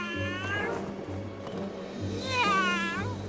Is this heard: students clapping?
no